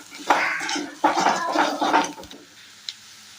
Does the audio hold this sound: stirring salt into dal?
yes